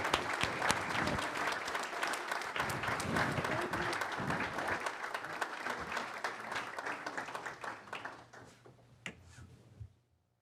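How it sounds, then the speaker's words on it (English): An audience at a board of education meeting gives a sustained round of applause that holds steady for several seconds, then thins out and fades to silence, with a few last scattered claps. "if you could give me a round of applause for both Heather and Matthew"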